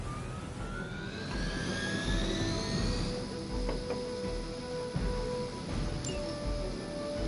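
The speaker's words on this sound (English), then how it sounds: "Target the helicopter." Helicopter in the video game Marvel Midnight Suns, a steady loud rotor and engine drone with rising whine tones and sirens layered in the game mix.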